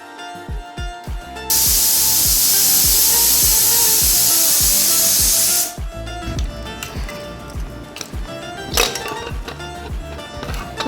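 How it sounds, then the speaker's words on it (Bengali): A pressure cooker holding meat lets out a loud, steady steam whistle for about four seconds, with rhythmic clattering knocks of the weight before and after the hiss. "প্রেসার কুকারে দিয়ে 2 থেকে 3টে সিটি মেরে নেব।"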